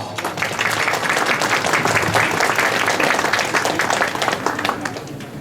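Audience applause at a state senator's campaign kickoff event, a dense, steady wash of many hands clapping that holds for several seconds before tapering slightly, with no voices over it.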